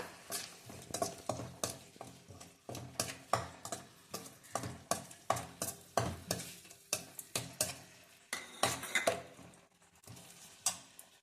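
Veg Manchurian ingredients with tomato sauce fry in a pan while a spoon stirs them in steady, rhythmic scrapes about twice a second over a soft continuous sizzle, close and moderately quiet with no talking.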